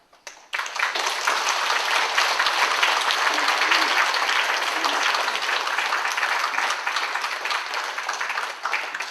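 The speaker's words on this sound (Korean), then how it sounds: "목사님 나오실 때 우리 큰 박수로 환영하며" A church congregation breaks into sustained, even applause to welcome the pastor at a Sunday service, a dense wash of clapping that starts abruptly and holds steady for several seconds.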